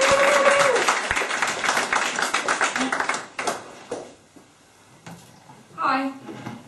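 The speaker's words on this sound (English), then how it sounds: "applause for the wonderful Deborah Stevenson" Applause for performer Deborah Stevenson at a scratch theatre performance, a dense clatter of clapping with voices mixed in that dies away after about three seconds, leaving quieter room sounds.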